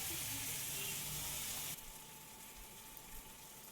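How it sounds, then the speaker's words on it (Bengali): Fried pumpkin pieces stir-fried with spices in a pan give a steady, fairly loud sizzle that drops to a quieter simmering hiss partway through, with no voices. "মিশিয়ে সব মিলিয়ে আরও একটু কষানো হবে"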